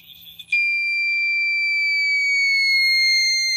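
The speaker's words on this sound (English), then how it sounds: "you'll hear it tuning" A steady high electronic tone holds after a brief burst of static, like a radio settling onto a signal, ending with a sudden low crackle.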